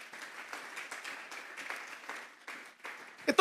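A church congregation claps in a steady, fairly faint rhythm, ending with a louder knock or bump.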